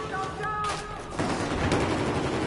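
Gunfire in Battlefield 4 rush mode, a dense, loud burst of shots and booms filling the second half of a short stretch, with game tones and faint speech-like sounds at the start.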